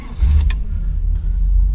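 A 1973 Chrysler Town & Country with a new high-torque mini starter catches briefly, a short cranking burst giving way to a low, steady idle close by.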